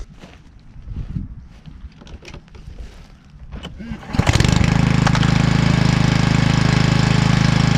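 Rover Procut 950 lawn mower engine catching on the first pull after warming up, preceded by handling clatter and a voice, then settling into a loud, steady close running drone.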